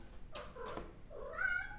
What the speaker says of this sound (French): C'est mes chats parce qu'ils viennent ficher le bazar.